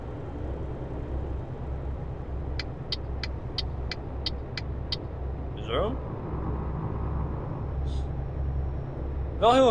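A truck in Euro Truck Simulator rumbles its tyres over road line markings, making a steady low drone that pulses in regular bursts, joined by a short run of evenly spaced beeps and a brief rising whine.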